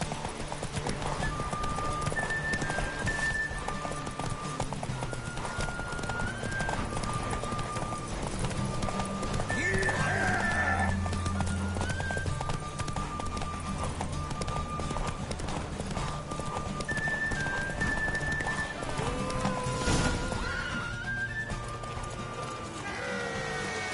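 Horse hooves gallop in a steady clip-clop through a race in The Witcher 3, loud and continuous, with occasional whinnies and game music and effects layered over the run.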